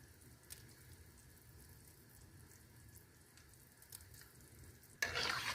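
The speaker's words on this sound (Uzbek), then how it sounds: "Astagina aralashtirib olamiz" Mastava, an Uzbek soup, is stirred gently in a pot: faint scraping strokes over a quiet simmer, with a brief louder burst of bubbling or splashing at the end.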